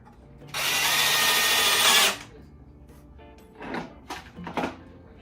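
A power drill drives in the bolts that hold an axle in place, a close burst of high whirring for under two seconds, followed by a few short clicks and clunks of assembly work.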